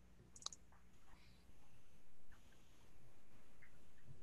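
Computer mouse clicks come from someone selecting items in free online data software. One crisp click stands out early, followed by faint scattered clicks under a quiet, steady room background.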